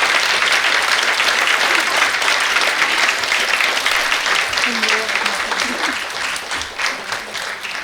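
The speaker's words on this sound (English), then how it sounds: "continue clapping" Sustained audience applause fills an award ceremony as winners take the stage, dense and steady throughout with faint voices mixed in toward the end.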